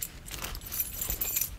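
A bunch of metal keys jangles and scrapes against a Samsung Galaxy S3 touchscreen, a dense, bright, continuous rattling that stays close and steady for under two seconds with no voices.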